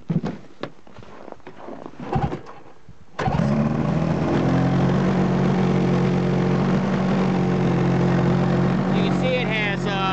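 A 2005 Polaris IQ Fusion 900 snowmobile with a broken crank fires up after a few seconds of handling noises and a voice, then settles into a loud, steady, close idle with a buzzy droning hum.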